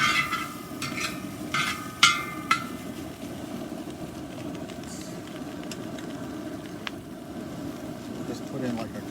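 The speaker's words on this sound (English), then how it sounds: "You want to maintain that sizzling." Rice sizzling steadily in a hot cowboy wok, with a few sharp clinks of a utensil early on, continuing at moderate level.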